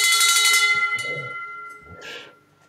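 A victory bell rung once to celebrate a closed real estate wholesale deal, a bright metallic strike that rings and fades, followed by a quieter second clang amid faint room noise.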